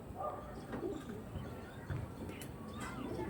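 A pigeon coos softly and repeatedly at close range in a quiet setting, with faint background noise and a voice nearby.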